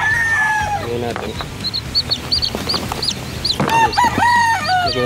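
Chicks in a feeding container chirp and peep in bright, repeated calls. The calls are close and busy, with a soft voice in the background at times.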